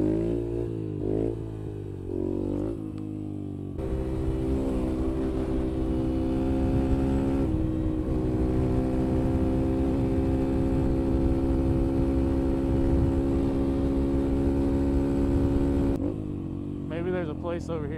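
A Yamaha TTR 125 dirt bike rides on a street, its small single-cylinder engine droning steadily close by after a few revs at the start, holding a fairly constant pitch before easing off near the end.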